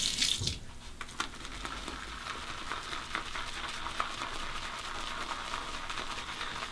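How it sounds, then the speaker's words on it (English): Water runs and splashes steadily from a tap for several seconds, a continuous bright hiss with a sharper splash at the start, as water is added to shaving lather. "Let me add a little bit of water."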